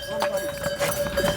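Horse and mule hooves clip-clopping on a steep mountain trail to a Himalayan temple, a quick uneven run of hoofbeats heard close under ongoing talk.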